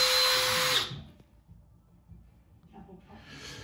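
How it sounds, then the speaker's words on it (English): A short burst from a Milwaukee M12 cordless drill drilling during a bathroom remodel, a high whining buzz that cuts off after under a second, followed by quiet room noise and a faint second whir starting up. "This little Milwaukee M12 is perfect for drilling little jobs like this."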